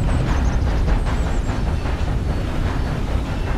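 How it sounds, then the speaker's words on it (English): A train rumbles past with a heavy, continuous low roar and faint high squeals, steady and loud throughout, in the video game Red Dead Redemption 2. "I hear a train."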